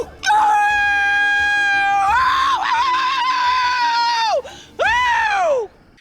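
A woman wails and screams in a manic, unhinged register: loud, sustained, tonal cries with sliding pitch in two long bursts, ending in a falling wail.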